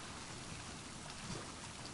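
Steady rain falls in The Last of Us Part 2, a quiet, even hiss of drops on surfaces with a faint low rumble beneath, continuous and without speech.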